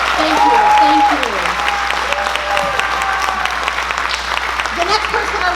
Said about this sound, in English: So everybody give him a big round of applause.